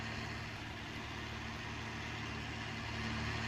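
Tractor engine in Farming Simulator 19 working steadily while ploughing a field, a low, even drone that stays constant and moderately quiet throughout, with no voices.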